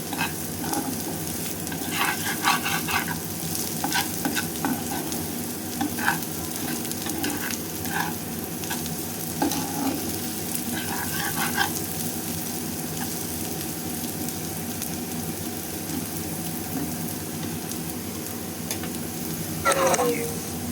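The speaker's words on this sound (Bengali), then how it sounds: "আমি এখন পেঁয়াজ তুলে রাইখা মাছটা ভাইজা দেবো" Small fish fry in hot oil in a pan beside onion and garlic, giving a steady close sizzle with occasional stirring clatter throughout.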